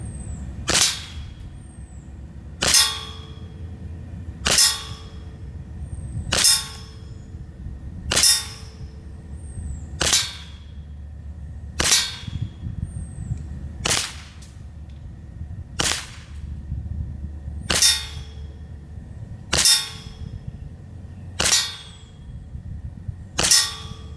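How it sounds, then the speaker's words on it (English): A Glock 19 Gen 5 CO2 blowback BB pistol in .177 fires a group at a target: about a dozen sharp cracks with metallic slide clacks, steady and close, spaced roughly two seconds apart over a low background hum. "let's load some BBs up and do a group"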